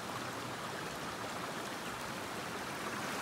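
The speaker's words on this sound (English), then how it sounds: "We got a creek right here, creek right there." A creek in the Alaskan backcountry flows in a steady, broad rushing wash of water, continuous and even throughout, with no voices over it.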